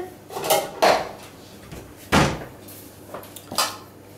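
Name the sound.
taking a plate from the cupboard, dishes clattering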